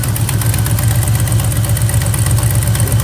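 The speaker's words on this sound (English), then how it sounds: "It might still have a bit of exhaust leak." A 1976 Plymouth Gran Fury wagon's V8 idles steadily up close, a loud, even low rumble with a faint ticking that may come from a small exhaust leak, with no voices.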